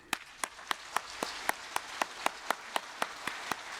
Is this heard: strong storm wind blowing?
no